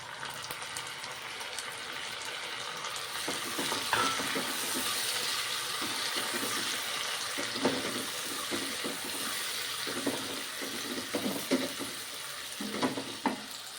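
Onions cook in a pan as tomatoes go in for a mixed dal, with a soft sizzle and intermittent stirring and scraping scuffs, close and moderately quiet, no voices.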